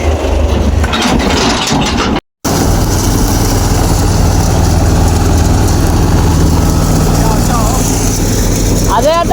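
A tractor engine runs at a steady idle, a loud, continuous low drone with a brief dropout partway through, while people talk over it.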